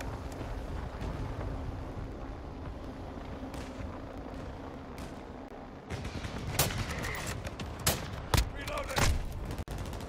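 Gunfire in an online shooter video game, heard as a steady background rumble and then several sharp, loud shot cracks in the last few seconds, with quiet voices talking underneath.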